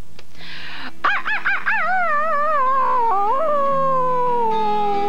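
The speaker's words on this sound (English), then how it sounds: "start the year with a loud bark" A dog lets out a few quick yelps that stretch into a long, wavering howl, loud and close, with no talking.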